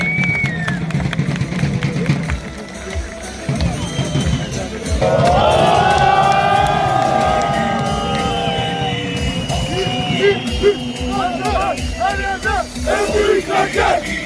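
A large crowd at a championship final ceremony cheers and shouts in a loud, surging roar, with chanting and yelling voices rising and falling and a clear swell in the middle.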